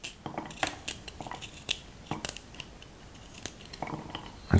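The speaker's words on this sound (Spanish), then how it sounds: "hay que echarle ajos, que tan sencillo como pelar los ajos" Garlic cloves peeled by hand in a home kitchen: a close run of sharp crackly snaps and papery skin tearing, with irregular clicks and small knocks, and no speech.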